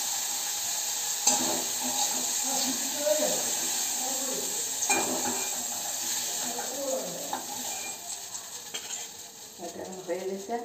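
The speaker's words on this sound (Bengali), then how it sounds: "তেল দিয়ে এখন একটাতে রসুন ফোড়ন দেব।" Garlic tempering in hot oil for a prawn and lentil dish with taro stems sizzles continuously, with occasional stirring and utensil clinks and a voice speaking over it.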